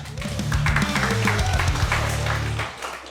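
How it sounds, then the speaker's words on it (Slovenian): Loud, dense applause from a comedy roast battle audience, sustained for a few seconds before tapering off near the end. "Prva runda, Alen Borišek, dajmo velik aplauz, greš!"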